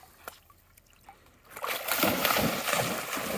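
An English Springer Spaniel splashes about in water, loud and close. A few faint drips and small sounds come first, then steady, broad splashing and sloshing takes over from about halfway through and continues to the end.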